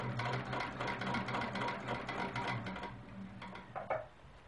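A sewing machine stitches in the ditch along the seam of a quilt block, a steady mid-pitched motor whir running through most of the stretch and easing off near the end with a brief rise.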